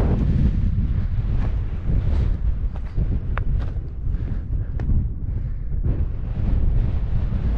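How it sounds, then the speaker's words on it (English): Strong wind buffets the microphone on a smoky mountain near lakes in a continuous low rumble, with gusts rising and falling and no voices. "Quite windy up here."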